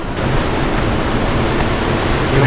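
Rushing water pours down a waterfall in the Icelandic wilderness, a loud, dense, unbroken roar that holds steady from start to finish with no voices.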